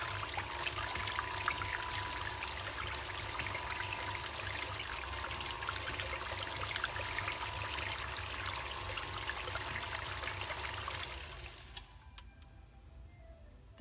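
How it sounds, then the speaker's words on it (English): Liquid cupcake ingredients for chocolate cream cheese cupcakes poured together into a mixing bowl, a steady close splashing pour that runs for about twelve seconds and then stops abruptly. "And I'll get all these liquids put together."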